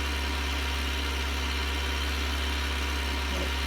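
A vintage Nuffield or Fordson tractor engine labors up a steep hill while hay carting, producing a steady, loud low drone with constant vibration and no breaks, alone throughout.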